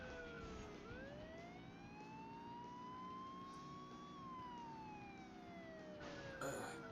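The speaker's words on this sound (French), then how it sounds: "il n'y a qu'une seule note de sirène, et celle-là, celle-là elle est cool" A police siren from the racing video game Burnout 2: Point of Impact wails steadily. A single rising and falling note sweeps slowly over a constant engine drone, loud and alone.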